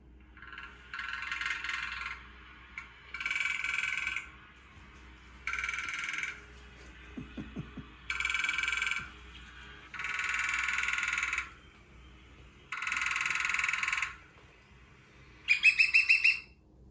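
A recording of a woodpecker plays seven loud, buzzy call bursts, each about a second long, separated by short quiet gaps. A brief rapid tapping comes in the middle.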